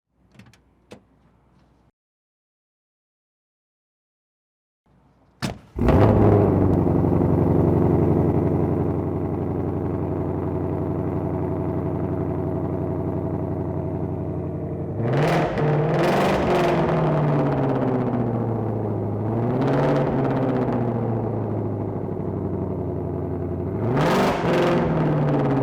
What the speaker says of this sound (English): So let's go ahead and fire it up and listen to our new exhaust system.